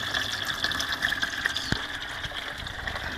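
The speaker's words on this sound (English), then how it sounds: "By adjusting this ball valve, I can adjust the flow of water to the top tank." Water flows through an adjustable ball valve into the top tank of a soda-bottle bell-siphon aquaponics setup, a steady close gushing and splashing rush with a faint pump hum underneath and one brief knock partway through.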